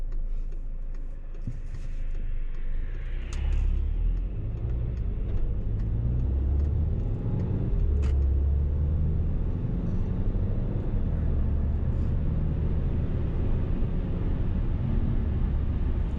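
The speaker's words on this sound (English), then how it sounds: "There's a car coming." A car approaching along a road through snowy winter woods, a low rumbling tire and engine noise swelling and fading as it passes, with faint ticking clicks near the microphone.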